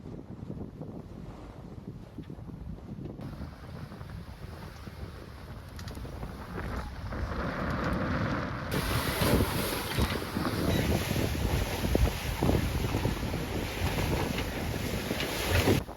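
Sailboat under sail pushing through steep waves, with strong wind buffeting the microphone and water rushing and splashing against the hull, growing louder and rougher midway and staying dense to the end.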